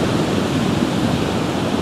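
Ocean swell rolling in as a steady, dense wash of surf noise, loud and continuous with no distinct breaks between waves, and no voices.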